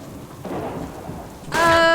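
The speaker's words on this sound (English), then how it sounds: "Hopefully the rain doesn't last all day." Rain and thunder in the survival video game Subsistence: a low rumble of thunder under steady rainfall, then a louder burst near the end where a bright tonal sound rings out over the storm.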